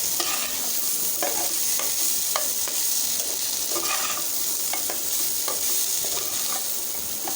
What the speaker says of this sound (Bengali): এখন আমি এটাকে একটু ভালো করে ভেজে নেব।